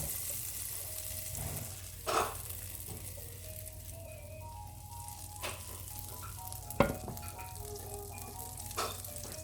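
Butter sizzles gently in a pan for a white roux, a soft continuous frying hiss broken by a few clinks and scrapes of a utensil, nearby and fairly quiet, with no talking.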